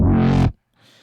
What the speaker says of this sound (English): And next we have this bass fill, let's say.